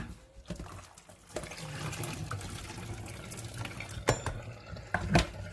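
Cooked eggplant for Italian eggplant balls is tipped into a colander to drain, giving soft wet shuffling and a few light metallic clinks, faint and close.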